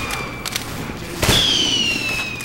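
In the Team Fortress 2 video game, a detonator explosion gives one sharp blast midway, followed by a sustained whistling tone that slowly fades, with faint game sounds before it.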